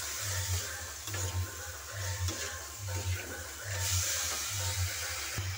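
Snail meat stirred and sautéed in a pan with capsicum for a Bengali curry, giving a steady close sizzle with rhythmic scraping stirs throughout and a faint low hum underneath; no talking.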